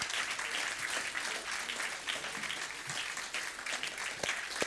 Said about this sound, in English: Would you give them another thankful applause for the good work they've done?